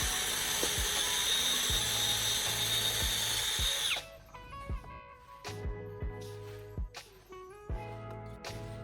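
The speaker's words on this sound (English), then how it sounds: "I'll drill a hole right in the bottom center." A high-pitched electric drill whines loudly for about four seconds as it bores through the bottom of an empty aluminum can, then stops, leaving scattered clicks and light handling noises.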